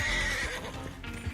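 A horse in Red Dead Redemption 2 whinnies loudly and shrilly up close, a drawn-out neigh with hoof clip-clops beneath, standing alone without talk.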